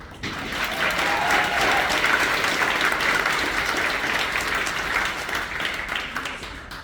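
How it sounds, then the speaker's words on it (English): Warm, dense applause from a town hall audience in Jonesborough, Tennessee, welcoming candidate Kevin Jenkins, swelling quickly and holding steady before easing off near the end. "So if you could give a nice round of applause to Kevin Jenkins."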